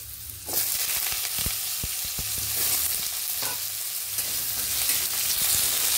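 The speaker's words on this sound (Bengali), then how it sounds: "ওলকপিটা দিয়ে দিলাম" Kohlrabi hits hot oil tempered with Bengali five-spice for a fish sour curry, giving a loud steady sizzle with scattered sharp crackles and spatula scrapes throughout, close and continuous with no talking.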